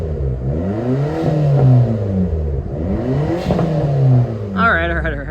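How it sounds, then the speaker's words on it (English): A Daihatsu Mira with a custom exhaust is revved twice, each rise and fall in engine pitch close and fairly loud, with faint exhaust pops possible as it settles; a short stretch of talk follows at the end. "So I'll give it a rev right now. Oh, I guess it does have some little back pops."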